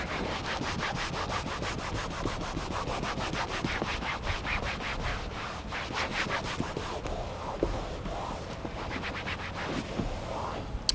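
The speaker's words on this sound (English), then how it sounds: "I'm gonna wipe off the turtle wax" A towel wipes Turtle Wax off car trim in quick, steady rubbing strokes, close and fairly quiet, keeping a scratchy back-and-forth rhythm the whole way through with no talking.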